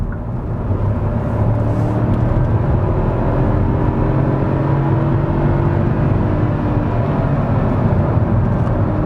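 A Hyundai i20 with a three-cylinder engine accelerates on the road, its steady, loud drone rising slowly in pitch from inside the cabin for the whole stretch, with no talking.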